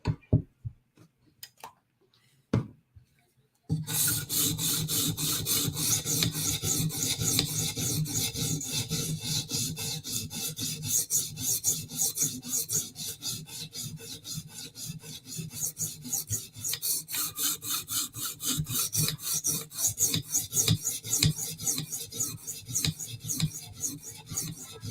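A knife is stroked over a sharpening stone while being sharpened, giving a long run of close, gritty rasping strokes in quick steady rhythm after a few sparse scrapes and taps at the start.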